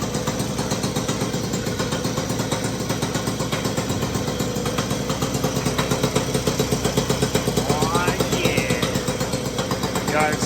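A 1985 Puch Maxi Sport LS-2 moped engine idles steadily after its first start, putting out a continuous, close, evenly pulsing putter.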